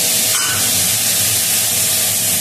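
Tomato and spices sizzling loudly in a frying pan, with potatoes already fried in salt and turmeric, a dense continuous hiss with steady low crackle throughout, no talking.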